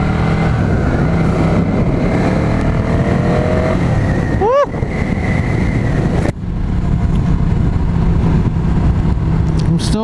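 A motorcycle ridden on a road trip to Deschutes Falls, its engine droning steadily and loud throughout, with a brief pitch-rising rev midway and wind rush around it.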